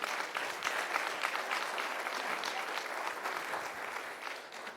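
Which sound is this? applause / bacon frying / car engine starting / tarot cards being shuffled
applause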